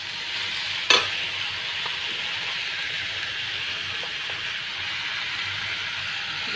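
Bhujia, a vegetable stir-fry, sizzles steadily in a pan in a home kitchen, a constant frying hiss with one sharp scrape of stirring early on and a few faint clinks later.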